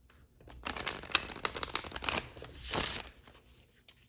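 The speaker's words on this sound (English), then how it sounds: "I'm going to shuffle one more time" Oracle cards being shuffled by hand, papery crinkling and riffling in quick irregular bursts, close and fairly quiet, with a longer rustle near the end and a final soft tap.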